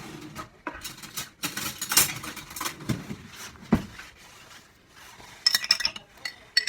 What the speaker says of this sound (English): Grab a teaspoon.